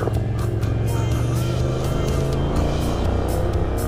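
A KYMCO AK550 motorcycle with an Akrapovic exhaust rumbles steadily up close, a deep throaty exhaust drone with rough low-end growl and no talking.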